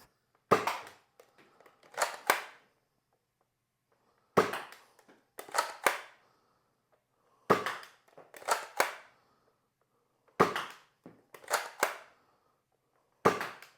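Nerf N Series Agility blaster firing foam darts at a target, heard as four evenly spaced bursts of three sharp snapping shots each, close and clear with quiet gaps between.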